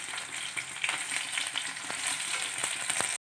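Onions and green chilies frying in a pan, a steady close sizzle with light stirring clicks, alone without voices.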